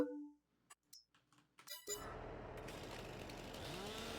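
After a few brief clicks and knocks, a chainsaw in the Farming Simulator 22 video game starts and runs with a steady buzzing roar while cutting a stump, continuous and close.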